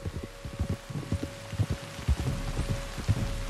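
Rain in Red Dead Redemption 2 patters steadily, with irregular heavier drops thumping low and near over a faint constant hum.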